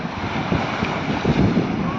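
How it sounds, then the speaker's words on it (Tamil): Waves wash in and wind gusts across the microphone at Changi Village beach in Singapore, a loud, continuous roar of surf and wind noise with no break. "ஜாங்கி வில்லேஜ் பீச்சில்"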